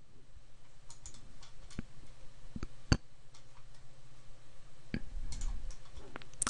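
Mouse clicks on checkboxes in QuickBooks accounting software, a few sharp isolated clicks scattered over a quiet low hum, one louder click near the middle.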